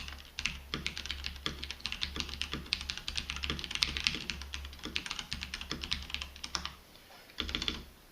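Typing on a Cherry Xtrfy MX8.2 TKL wireless mechanical keyboard with brown switches, a steady close-up run of soft, rapid key clacks over a low constant hum, pausing briefly near the end.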